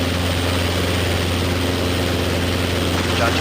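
A Robinson R22 training helicopter's piston engine and rotor run in a loud, steady drone with a rhythmic blade chop, heard from inside the cabin under a headset intercom hiss.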